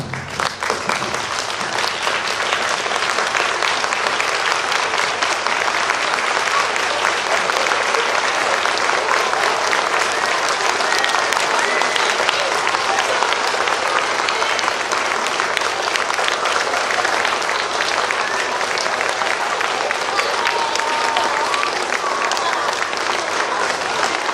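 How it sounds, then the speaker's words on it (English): Sustained applause for veterans from a large crowd at a school Veterans Day program, steady and enthusiastic, filling the room continuously without letup for the whole stretch. "Please stand and give them a round of applause."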